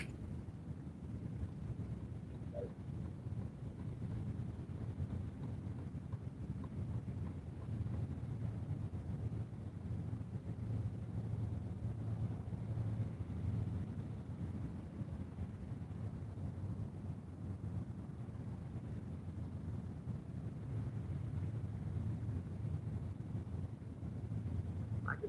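Steady wind roars and buffets the microphone outdoors on a fishing boat on the water, a continuous low rumble lasting the whole stretch with no talk over it.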